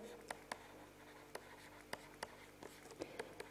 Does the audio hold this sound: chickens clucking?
no